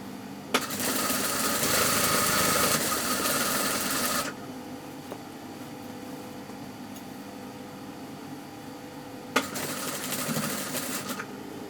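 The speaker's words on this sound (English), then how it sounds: "you just do a round seam matching the line in the crotch area, line to line." A sewing machine stitches a round trouser crotch seam in a loud, steady whir for about four seconds, then stops, leaving quiet room noise, and starts again briefly near the end.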